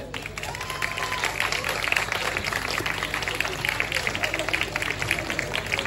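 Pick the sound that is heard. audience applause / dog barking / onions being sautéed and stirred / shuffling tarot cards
audience applause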